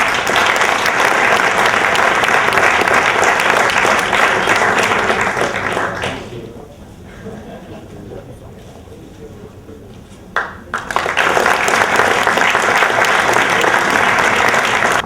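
Audience at a Local Police ceremony in Udine applauding loudly and densely, then fading to a brief lull before a second burst of clapping swells back up.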